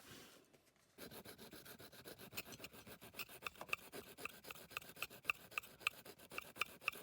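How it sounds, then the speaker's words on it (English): Metal file rasping on a die-cast BMC Mini model car, starting after a short quiet moment and then working in repeated close, crisp strokes that grow sharper and more rhythmic. "I'll just end up filing the rest off"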